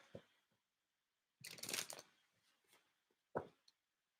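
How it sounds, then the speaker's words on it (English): Tarot cards are shuffled in short bursts: a long riffling flurry in the middle, then a quick crisp snap and a few light taps, close and quiet against near silence. "let me shuffle these tarot cards for more."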